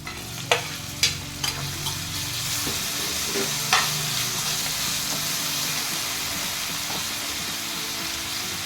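Tomatoes dropped into onions already frying in a pan, a steady close sizzle with a few sharp stirring clatters early on, no voices.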